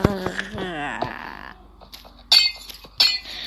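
Video-game glass breaks with a crisp shattering clink, two sharp bursts spaced about a second apart, following a person's animated talk.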